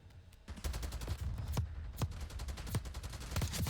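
Rapid automatic AK rifle fire in Black Ops 6 rattles in quick irregular bursts, each sharp crack close and punchy over a dense, continuous background of battle noise.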